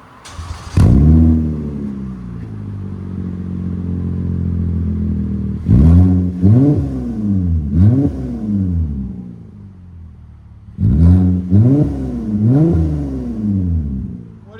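A 3.5L V6 engine fitted with a Netami Twist muffler revs loudly in three bursts of sharp blips, the first held as a long steady drone before dropping back, all close and with no talk over it.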